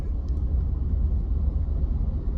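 A truck rolling past on a road, a steady loud low rumble of engine and tyres holding evenly for a couple of seconds with no voices over it.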